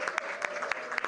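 A studio audience on a Punjabi TV show applauds to welcome guests, a brief, fairly faint burst of clapping with a few sharper individual claps standing out.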